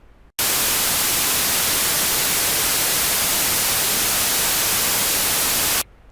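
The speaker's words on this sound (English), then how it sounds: "The first noise you will hear is white noise." A sudden, loud burst of steady, broadband hiss starts after a brief quiet, holds evenly for about five seconds, then cuts off abruptly.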